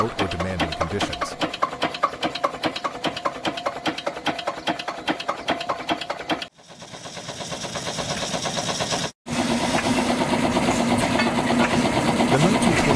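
A Slavia 16 horsepower single-cylinder diesel engine runs with a steady rapid knocking beat, loud and close, with the sound shifting between takes.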